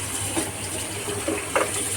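Boiled Hakka noodles are rinsed in a strainer under a cold running tap: a steady, close wash of water with brief splashier bursts as the noodles are loosened.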